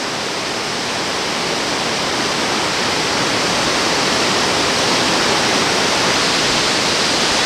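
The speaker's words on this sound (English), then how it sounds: "Looks like 3 or 4 different sets of falls here." A wide waterfall in New Brunswick with several sets of falls roars in a steady, dense broadband rush, constant and full throughout with no other sounds.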